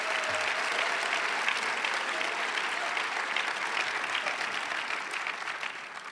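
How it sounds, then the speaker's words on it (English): Sustained audience applause at a lecture, a dense, even wash of clapping that holds steady and eases slightly toward the end. "a big round of applause for Lena Moore with the Clinton Foundation"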